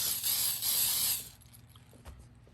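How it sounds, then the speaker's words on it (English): Hairspray sprays in one close, hissing burst lasting just over a second, then cuts off into quiet handling noise. "Is what I want to do is find my hairspray."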